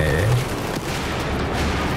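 Explosions and gunfire in Battlefield 4 during a Domination match, a dense and continuous barrage of shots and blasts with no pauses.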